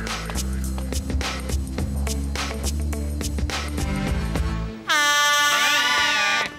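Cartoon ocean liner horn blaring loudly and abruptly in the final seconds, a deep, sustained multi-tone blast that cuts in after busy clattering, tapping effects.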